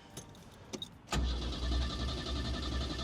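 A restored 1961 Renault Caravelle, back on the road after twenty years laid up, gives a few faint clicks, then its engine catches abruptly and settles into a loud, steady idle with no pause.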